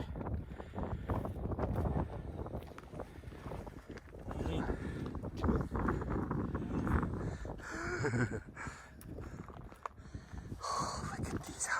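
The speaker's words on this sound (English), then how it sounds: "It's very windy, guys." Gusty wind rumbles across the microphone in uneven bursts while a person talks intermittently over it.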